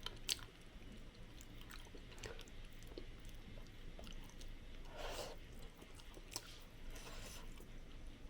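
Someone chews beef and quail egg jangjorim, soft wet chewing with occasional crunches and breaths, close and quiet over a low room background.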